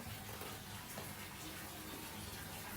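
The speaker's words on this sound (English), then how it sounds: "Shall I keep the hot water running?" Hot water runs from a tap in a steady, faint, even hiss of flowing water that stays continuous without breaks.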